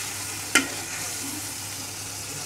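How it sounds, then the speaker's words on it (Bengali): Fish masala spices sauté in a pan with a soft, continuous sizzle, quiet and close, broken once by a short sharp scrape of a spoon early on. "চামচে যেহেতু লেগে আছে আমরা একটু মশলাটাকে একটু ভালো করে কষাতে হবে"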